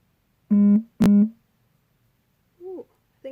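A phone vibrating from an incoming text, heard as two short, loud buzzing pulses in quick succession, followed by a couple of fainter tonal sounds after a pause.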